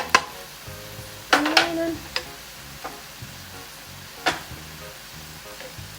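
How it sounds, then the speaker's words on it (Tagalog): A bitter gourd (ampalaya) sauté with garlic powder and vegetables sizzles quietly in a pan while a spatula stirs it in a few scraping strokes, and a voice speaks briefly over the cooking. "ihalo na natin lahat"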